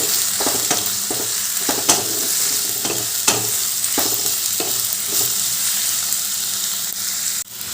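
Two medium onions, thinly sliced and salted, fry in hot oil with a steady loud sizzle, while a spatula scrapes and stirs through the pan in repeated strokes; no voices.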